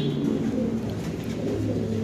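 Pigeons coo steadily in a bird market or pigeon loft, with several overlapping low, throaty calls running continuously and fairly close.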